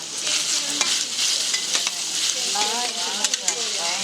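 Minced pork fries in grapeseed or avocado oil, giving a steady, close sizzle with bursts of crackle and the scrape of stirring, with no talk over it.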